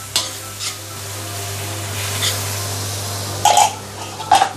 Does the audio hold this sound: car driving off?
no